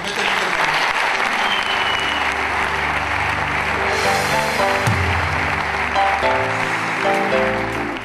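A church congregation applauding, a loud, continuous wash of clapping from many hands, with voices mixed in underneath.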